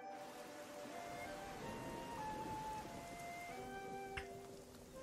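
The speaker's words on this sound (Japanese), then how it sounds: "雨やな" Rain falls steadily across an anime episode, a constant wash of patter that stays even throughout, blended with tonal background music and a brief sharper accent near the end.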